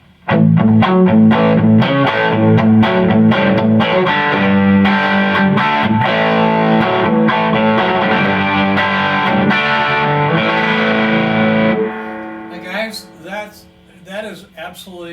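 A Collings 290 electric guitar with Throbak P90 pickups plays through a Carr Super Bee 1x12 amp at high gain, loud distorted chords ringing with reverb, then sparse, quieter picked notes toward the end.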